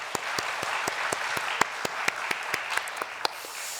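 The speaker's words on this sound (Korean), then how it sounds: "격려의 박수를 하겠습니다" A church congregation applauds during a Friday prayer meeting, a steady, moderately close ripple of many hands clapping with a few sharper individual claps standing out, no speech.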